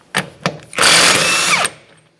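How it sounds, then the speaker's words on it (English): A power tool whirs loudly for about a second as it removes a 32mm rear axle nut on a 1994-1997 Honda Accord, preceded by two short sharp clicks and trailing off as the motor spins down. "we'll remove our 32mm axle nut"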